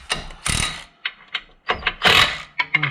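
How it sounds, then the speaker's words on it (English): A small impact gun tightening ball joint nuts on a MK4 Golf fires short rattling bursts, several brief hammering runs close by with small pauses between them. "I'll whiz them up with a little gun as well"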